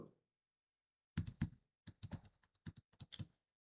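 Keys clack on a computer keyboard in a quiet room while entering a word into an Excel spreadsheet: a short burst of two taps, a pause, then a quick run of crisp keystrokes ending in a final press.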